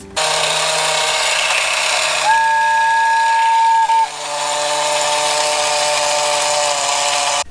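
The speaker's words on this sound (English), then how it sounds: "when it's running and it hits a wall, it'll turn in the opposite direction" A small battery-powered toy train runs with a continuous mechanical whir and chugging hum, a steady whistle-like tone sounding for a couple of seconds midway.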